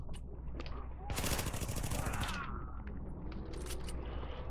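Gunfire in the video game The Division crackles in a sharp burst of rapid shots, followed by scattered single cracks, loud and close.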